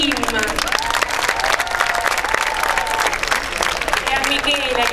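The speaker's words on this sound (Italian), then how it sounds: "Quindi grazie ed un applauso al mio team" Crowd applauding at an amateur boxing gala night, dense clapping close by with scattered cheers, steady and loud throughout, with voices mixed into the noise.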